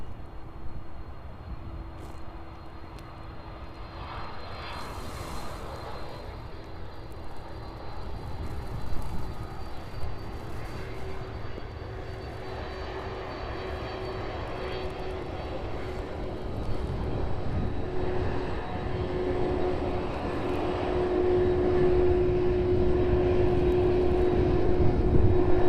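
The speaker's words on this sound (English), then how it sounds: "And that's 767 just in time for that one to arrive in with us." Boeing 767 airliner landing at East Midlands Airport, heard as a steady jet roar building slowly and growing louder toward the end, with a sustained engine tone and no talk.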